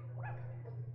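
A single short dog bark with a soft whimpering tail from a dog in the video game Yoshi's Woolly World, heard alone over a steady low hum.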